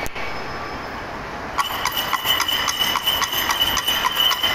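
A performer at a mall event strikes coconut shells together to imitate the clip-clop of a horse cart, producing a steady rhythmic series of hollow knocks. A constant background hiss runs under the knocks throughout.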